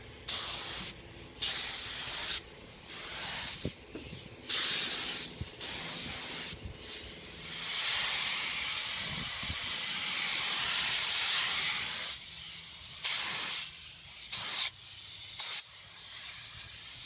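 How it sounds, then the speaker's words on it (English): A cup-feed spray gun sprays gelcoat release coating on a 1966 Corvette in long steady hissing bursts with short pauses between them, loud and close, ending in a few quick choppy sprays. "Spraying it out of a cycle feed gun."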